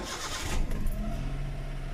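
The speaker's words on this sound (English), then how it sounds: "let's start the engine" A Hyundai Eon car engine cranks briefly and catches, settling into a steady, even idle heard up close with no talking.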